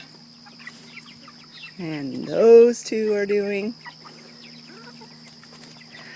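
Month-old chickens cluck and squabble in a short, loud burst of rising, wavering calls as two birds challenge each other in a dirt yard, with someone talking quietly before and after.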